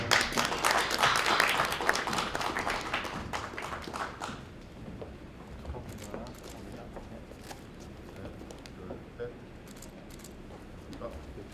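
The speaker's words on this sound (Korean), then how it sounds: "박수로 맞으시기 바랍니다" Audience applause at a Korea University KU-KIST graduate school entrance ceremony, a burst of clapping for about four seconds that then fades into quieter room noise with scattered taps.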